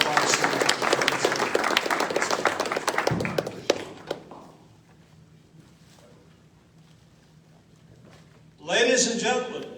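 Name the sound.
applause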